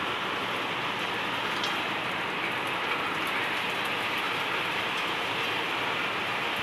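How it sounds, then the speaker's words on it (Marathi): Heavy monsoon rain pouring down outdoors, a dense, steady roar of falling water with scattered drops and no voices over it. "आताही मोठा पाऊस आहे, मी तुम्हाला बॅक कॅमेऱ्याने दाखवते."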